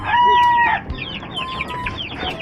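Young roosters cluck and chatter close by at feeding time, with one loud crowing-like call at the start followed by a rapid run of overlapping clucks.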